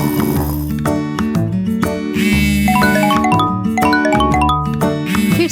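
A phone ringtone plays in a bright, tinkling melodic pattern. It repeats continuously and loudly for several seconds.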